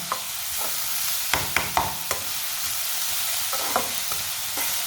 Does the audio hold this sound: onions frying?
yes